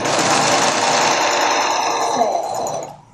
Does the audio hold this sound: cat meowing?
no